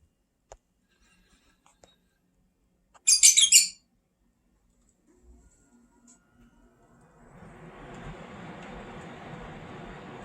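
A small pet lovebird gives a short, sharp burst of rapid high chirps after a near-silent start, followed later by a low, steady rustling noise close by.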